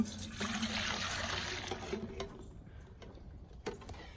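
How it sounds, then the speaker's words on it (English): Fresh cow's milk from an Irish Dexter cow being poured from a pail into a milk tote, a steady liquid trickle and splash for about two seconds, then fading to quieter drips and small knocks. "I'm going to pour it off before I lose all this by her kicking something into it, into the milk tote"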